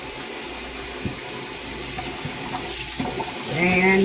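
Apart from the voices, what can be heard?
rinsing a spoon under a running kitchen tap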